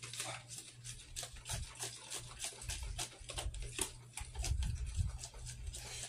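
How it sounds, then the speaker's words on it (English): A whisk beats milk into a runny chicken pie batter in a bowl, making a fast, steady swishing and scraping rhythm that stays close and continuous throughout. "You're going to whisk this."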